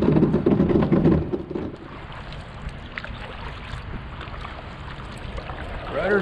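A sailing kayak pushed off into the water, with splashing and hull noise close by at first, then gentler lapping water and breezy wind, and a voice briefly heard.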